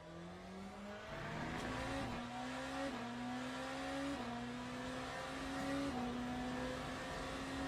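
Hypercar race car in Le Mans Ultimate, driven on the Spa circuit, braking hard with its engine downshifting in repeated stepped drops in pitch. The sound is loud and continuous, with some tyre noise.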